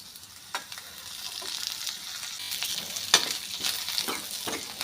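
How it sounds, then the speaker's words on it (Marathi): Onion and coconut roast in oil in a pan, producing a continuous bright sizzle with occasional ladle clicks and scrapes, heard up close with no voices. "कांदा आणि खोबरं आपल्याला चांगलं काळसर करून घ्यायचं आहे म्हणजे भाजी चविष्ट होते"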